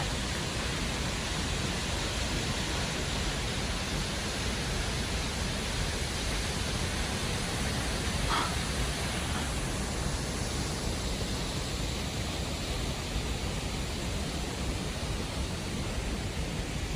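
Continuous broadband roar of a waterfall in Oregon, heard close and steady throughout, loud and unbroken with no voices.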